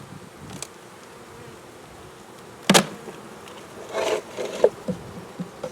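Honey bees buzzing on a hive frame during cold-weather feeding: a low, steady hum with a few close, sharper buzzes and light knocks as the frame is handled, no talk.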